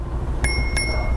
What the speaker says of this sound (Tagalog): Tumunog na ang mahiwagang doorbell